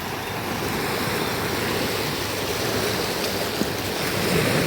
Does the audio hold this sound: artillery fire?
no